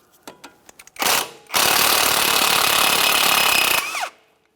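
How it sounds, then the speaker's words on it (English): Power tool loosening a 17mm mounting nut during a front inner tie rod replacement on a 2014-2018 Mazda 3, heard as a few short taps, then a loud buzzing burst, and a longer sustained whirring run that winds down at the end. "We'll use a 17mm to loosen our mounting nut."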